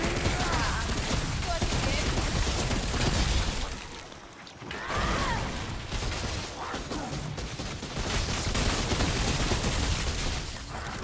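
Weapon fire in a shooter game, dense rapid bursts crackling loudly and almost continuously, dropping briefly to a lull before resuming with mechanical clatter.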